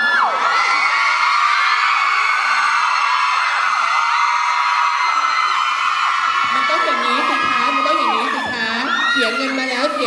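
A crowd of fans at a Thai drama fan meeting screams and whoops loudly and continuously, with high shrill voices layered over one another, swelling and shifting, and some individual shouts standing out near the end.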